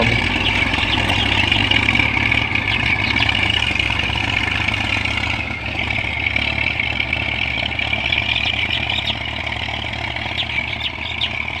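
A Massey tractor engine runs steadily at a medium, throbbing idle in a field, close and loud, with a slight dip in pitch midway and no voices.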